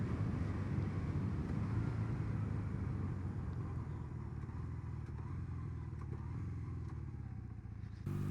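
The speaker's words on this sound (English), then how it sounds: "I am genuinely surprised with how well the bike runs and how little work it required to get it running like this" A 36-year-old motorcycle engine idles steadily nearby, a continuous low rumble with a throbbing exhaust note that holds even for about eight seconds before shifting slightly at the end.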